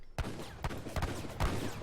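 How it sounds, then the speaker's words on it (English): Heavy cannons fire in a real-time strategy game battle, with four loud booming shots at irregular intervals over continuous clashing battle noise. "getting hit by heavy cannons is not great"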